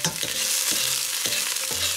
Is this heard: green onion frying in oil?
yes